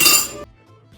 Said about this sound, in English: I'm gonna cut one of the meatballs open to make sure that we have a cooked meatball.